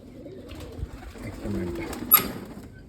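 Soft pigeon cooing, low and murmuring, heard faintly amid quiet background noise with a brief sharp sound near the end.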